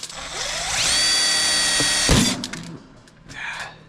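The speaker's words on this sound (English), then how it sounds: "Stainless steel is so difficult to drill through sometimes." A power drill drives a 5/16 inch screw into stainless steel ductwork, spinning up with a rising whine, holding a high steady scream for about a second, then stopping with a clunk and brief rattling.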